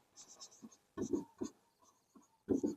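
Chalk or marker scratching across a board in a chemistry lesson, short strokes and taps in quick irregular bursts with pauses, close and quiet.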